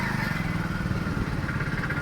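A Honda motorcycle engine runs steadily during a water crossing on a rough hill road, a low throbbing drone that holds at an even level throughout, with no voices.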